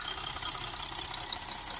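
A 3.0 V6 diesel engine in an Audi A4 with a particulate filter fault, idling steadily at close range, with a constant low rumble and a hissy, even texture throughout.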